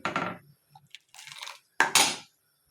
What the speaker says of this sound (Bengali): এখন আমি যে ঢেলে দিচ্ছি, ভালো মতো করে আমি নাড়াচাড়া দিয়ে নিই